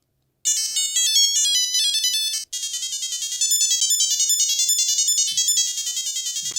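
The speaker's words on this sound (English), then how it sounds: "The speaker is powerful on this thing, and the music is, single note. It's very high pitched." Shrill, high-pitched single-note chiptune melody from the Nintendo Pokemon Mini handheld console's small speaker, loud and continuous with a brief cut near the start of the second half.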